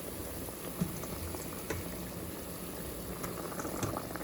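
Two milkfish heads frying in hot oil give a steady, dense sizzle and crackle that runs on evenly, with a few small pops rising out of it.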